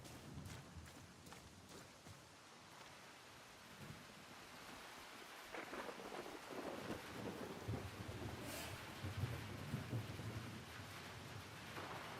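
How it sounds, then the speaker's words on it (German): Rain and thunder in the game Far Cry 6: a steady wash of rainfall under low rumbling thunder that swells midway and keeps rolling, fairly quiet throughout. "Jetzt regnet es auch noch."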